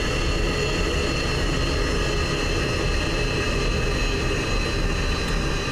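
A dense, steady jet roar from an F-16 engine in a flight simulator game, loud and continuous throughout with no clear wind-down heard, and no voices.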